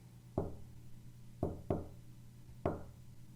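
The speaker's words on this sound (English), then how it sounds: "Someone was clearly knocking on his door." Knocks sound on a door in the Chaos;Child visual novel, four sharp, close raps spaced irregularly across a quiet background, with no speech.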